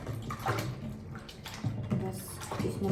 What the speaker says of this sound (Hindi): मैं इनको थोड़ी देर इसमें भिगाऊँगी और ये खुद ही धुल जाते हैं